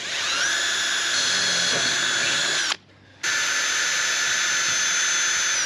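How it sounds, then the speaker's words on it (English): Power drill boring holes through a car's body, a sustained high-pitched whine that runs steadily, cuts out for a brief moment, then resumes at the same pitch, close and fairly loud with no talking. "So I'm drilling holes in my car,"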